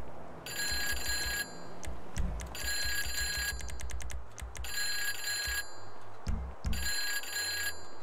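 A telephone rings on an unanswered call, an old-style bell ringing in four long, loud bursts separated by short gaps, with low background noise beneath.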